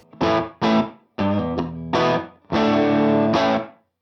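Distorted electric guitar chords played through a Universal Audio Ruby 63 Top Boost amp emulation with its room effect on, a roomy, spacious ambience, several short stabs followed by a long sustained chord.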